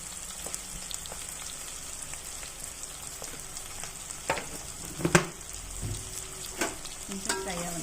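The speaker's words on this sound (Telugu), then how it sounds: "కొంచెం ఫ్రై అవ్వను," Turmeric and salt frying in a pan for a Dondakaya curry with meal maker, a steady close sizzle with occasional stirring clinks and scrapes throughout.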